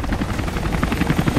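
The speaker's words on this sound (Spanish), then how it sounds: "Cuidado, está el helicóptero otra vez. Qué pesado este helicóptero." Helicopter in the video game Rise of the Tomb Raider, a loud, close rhythmic rotor thump pulsing steadily over a deep engine drone, with no talk.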